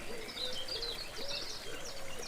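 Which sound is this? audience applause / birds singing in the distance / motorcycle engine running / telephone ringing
birds singing in the distance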